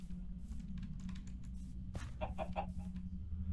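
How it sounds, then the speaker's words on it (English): Minecraft chickens cluck in a modded FTB Skies game, a few short clucks near the end over a low steady hum, with faint clicking like keyboard typing earlier. "Ah, chickens."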